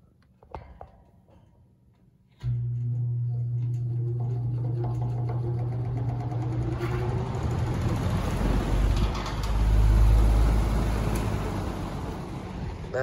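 After a few faint clicks, a machine with offset blades starts up abruptly and runs on with a steady low hum and whirring rattle, swelling louder toward the end.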